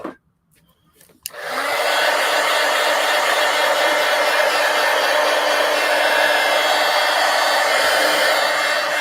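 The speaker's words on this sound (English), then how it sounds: "Now let's hit it with the heat gun." A heat gun drying a mixed media art page, clicking on after a brief quiet moment and then blowing in a loud, steady, continuous roar close by.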